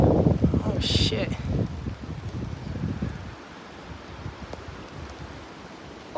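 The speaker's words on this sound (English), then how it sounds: "Oh, that's a strong gust." Strong afternoon wind gusts of up to 45 mph roar loudly outdoors as a broad, rushing buffet against the microphone, strongest in the first half before easing to a steadier, lower rumble.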